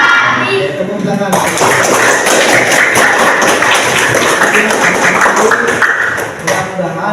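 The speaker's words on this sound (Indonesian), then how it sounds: "Tepuk tangan" A classroom of students clapping their hands together, a dense, sustained burst of applause close by that swells after a brief murmur and runs for several seconds before fading, with a teacher's voice speaking at the start and end.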